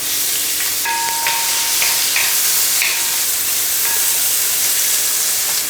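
Thinly sliced onions frying in oil for a Kerala Christmas chicken stew, a steady bright hiss of sizzling with a few faint metallic taps of a spoon, close and even throughout.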